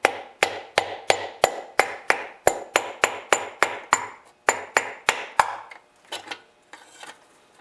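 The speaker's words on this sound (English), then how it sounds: "you keep pounding it with the hammer and a piece of wood" A hammer strikes a block of wood to drive a small-engine piston down through a ring compressor tool, about fifteen sharp, evenly spaced knocks. The blows pause once, then a few lighter taps follow at the end, close and alone.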